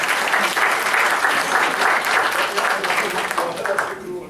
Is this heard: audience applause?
yes